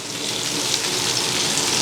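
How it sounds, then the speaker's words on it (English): Water poured into a pan on the stove over a sauce for pan-seared chicken, a steady loud rushing gush that holds for the whole stretch with no voices. "Add the water"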